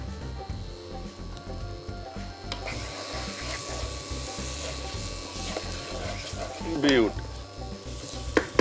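Tomatoes hit a pan of lightly roasted spices and salt and sizzle steadily, with a low mechanical hum underneath and a brief burst of scraping near the end.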